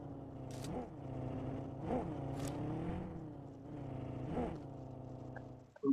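A vehicle's engine drones steadily nearby in PUBG Mobile, its pitch rising and falling in a few revving swells, fairly quiet and with no voices over it.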